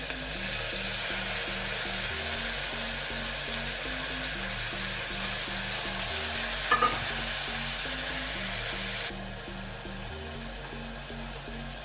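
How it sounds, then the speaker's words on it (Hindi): Green chilies and tomatoes going into garlic frying in a pan: a steady broad sizzle continues throughout, with a short burst of clatter midway, and no speech. "ऐसे लहसुन के लाल होते से ही इसमें डाल देंगे हम हरी मिर्ची और टमाटर"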